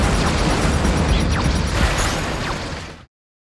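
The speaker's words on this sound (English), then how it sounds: "Laser level 2." Level 2 laser sound effect from the BFD2 drum software, a dense, loud, sustained electronic burst with whooshing sweeps that holds steady for about three seconds and then cuts off abruptly into silence.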